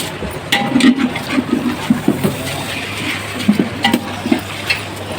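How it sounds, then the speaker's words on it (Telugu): Water pours and splashes onto basmati rice in a pot in a steady gurgling stream, with a few faint clinks. "మేము బియ్యం వేసినాక నీళ్ళు పోస్తాం"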